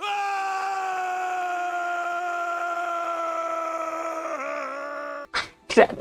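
A long, sustained wail from a character in the Pillars of Eternity video game, holding steady tones for about five seconds before wavering and breaking off, followed by two short abrupt bursts.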